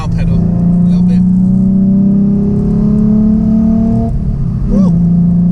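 A Ford Mustang Black Transformers Edition pulls hard under acceleration, its engine note climbing steadily for about four seconds before a brief gearshift dip and renewed pull, loud and close from inside the cabin.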